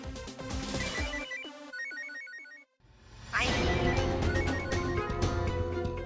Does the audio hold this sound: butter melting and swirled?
no